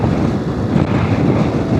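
Wind blowing hard over a microphone while riding a motorcycle in Andalusia, a loud continuous low buffeting roar with no breaks.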